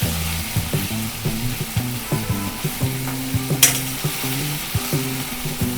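A spoon stirs tomatoes frying in a pan for Kolhapuri sprouted matki usal: repeated rhythmic scraping strokes with a squeaky, grinding drag over steady sizzling, plus one sharp knock midway.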